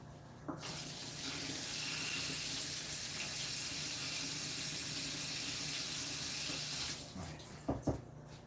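Tap water runs steadily into a sink while a pan is washed beneath it, a continuous broad rushing close to the mic that stops near the end, followed by a couple of sharp knocks of the pan.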